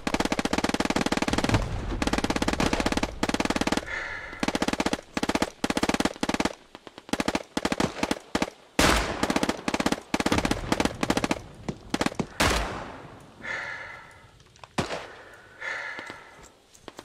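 Rapid bursts of heavy automatic gunfire and tank fire crackle close and loud in a Hell Let Loose battle, with dense repeated shots that break into choppier volleys before fading into a rumbling tail.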